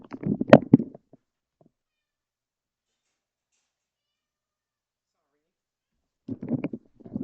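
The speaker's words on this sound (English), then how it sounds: "Oh, Kitty, you want to be out." A house cat meows loudly and close, wanting to be let out, in two short bursts separated by several seconds of silence.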